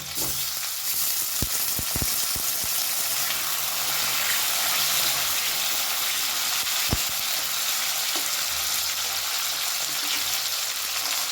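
Chopped tomatoes going into a pan of carrots frying on a gas flame, a steady loud sizzle with a few sharp clicks and taps near the start and one more partway through, no talk.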